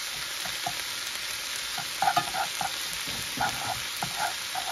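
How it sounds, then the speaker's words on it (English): Goulash cooking in a pan, with a steady close sizzle and frying hiss, broken by scattered scraping stirs and utensil clinks. "it's going to cook longer in the pan with the sauce and everything when it gets all mixed"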